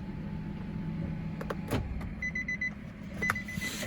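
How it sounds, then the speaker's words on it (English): A 2020 Nissan Rogue SL AWD being shut off: a low idle hum inside the cabin, a few clicks and a thump, then brief electronic chimes as the engine stops. "we'll go ahead and shut it down"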